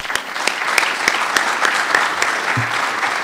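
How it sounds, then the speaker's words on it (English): Audience applause welcoming a keynote speaker to the stage at an evening presentation: steady, dense clapping from a crowd, fairly loud and sustained throughout with no speech. "Please join me in a welcome round of applause."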